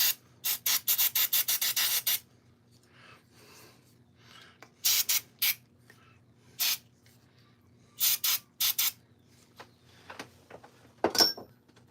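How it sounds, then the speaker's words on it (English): A bolt carrier group soaked with Hoppe's No. 9 is scrubbed with a brush in quick rhythmic bursts of bristly rubbing, loud and close, separated by quiet pauses. "I'll brush it out."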